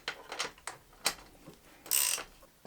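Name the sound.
tightening 10 mm wheel nuts with a ratchet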